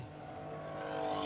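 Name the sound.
Porsche and BMW E30 race cars passing on a race track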